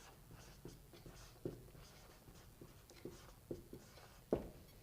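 Pen or marker on a writing surface, a soft scratchy stroke sound with several light taps spread irregularly across a few seconds, close and quiet, with no voice.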